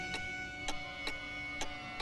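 A clock ticks steadily in a quiet room, five evenly spaced, sharp ticks roughly half a second apart, clear and fairly close with a faint background hum.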